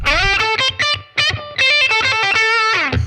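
Electric guitar played through a Blue Boy ToneX amp capture with no effects beyond a light room reverb, a continuous run of bright, harmonically rich notes and chords with brief gaps, loud and close.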